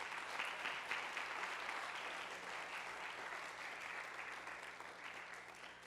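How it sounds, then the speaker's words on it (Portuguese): Church congregation applauding, a dense, steady wash of clapping that fills the whole stretch at fairly even loudness with no one speaking over it. "Aplauda, Senhor."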